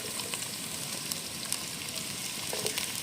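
Onions and shallots sizzling in a hot pan for a Kerala-style crab roast, a steady close crackling hiss with small pops throughout, no talking.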